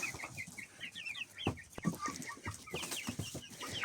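Young chickens of a black breed raised on a home farm cluck and squawk in repeated bursts as they are chased and caught, with scattered thumps and rustling in between, fairly close.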